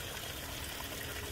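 Water falls over ledge stones in a Japanese garden waterfall, a soft, even rushing and trickling that stays constant and faint, with no voices.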